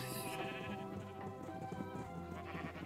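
Sheep bleating in the video game Minecraft, during a Mineplex mini game: a continuous, close, wavering bleat sits within a busy game soundscape, with no clear talking.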